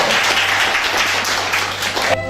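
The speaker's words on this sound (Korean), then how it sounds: "오늘 여러분들예 박수 주세요" Loud, continuous applause from an audience at a live quiz segment of a stage show, dense clapping filling the whole moment and cutting off abruptly at the end, with a low hum underneath.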